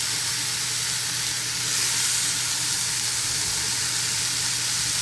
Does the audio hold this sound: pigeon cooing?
no